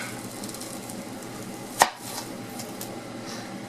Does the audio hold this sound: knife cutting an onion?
yes